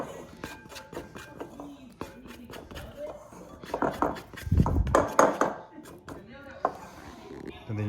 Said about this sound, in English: you just use the spatula, scrape the excess dough downwards